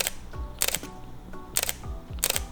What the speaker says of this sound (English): There is a new shutter unit on the Fujifilm X-T4,